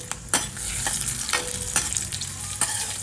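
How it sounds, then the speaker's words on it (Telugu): Red chillies fry in a couple of spoons of oil on a stove, a dense continuous sizzle broken by several sharp spoon strikes and stirs against the pan. "స్టవ్ మీద రెండు స్పూన్లు ఆయిల్ వేసుకుని మిరపకాయలు ఎర్రగా వేయించుకోవాలండి"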